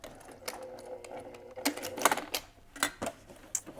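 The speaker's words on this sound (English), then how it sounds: "you're sewing through a bunch of layers of denim, so you're really going to need a more heavy-duty machine" Heavy-duty sewing machine stitching through several layers of denim: a close, rapid mechanical chatter that comes in uneven bursts and speeds up and slows down, with no voices.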